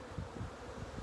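A faint, dense hum of many honeybees buzzing together in an open hive in early spring, low and continuous, with no voices.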